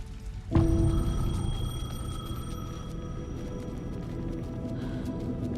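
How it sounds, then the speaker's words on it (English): A payphone rings in the video game Alan Wake 2, a steady electronic tone that starts abruptly and then sustains over a dark, rumbling ambient drone. "payphone was ringing. Somehow I knew the call was for me."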